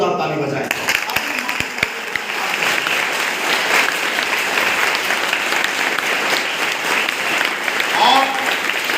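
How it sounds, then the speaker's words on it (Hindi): Loud, sustained applause from an audience clapping in honour of their parents at a gathering, dense and steady throughout after a brief opening voice. "अपने माँ पिताजी को ध्यान करते हुए उनके लिए सम्मान में जोरदार ताली बजाएं।"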